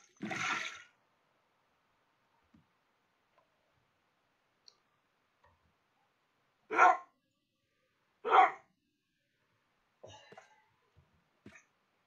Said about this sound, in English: Look at that. We're surrounded by dogs.